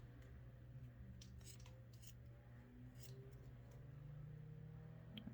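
Scissors snip crochet yarn for a beginner scarf, several quiet, close clips in a short cluster over a low steady hum.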